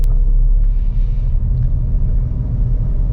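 Deep, loud, continuous engine rumble from a manual car cruising in second gear on a road, a steady low drone with no talking.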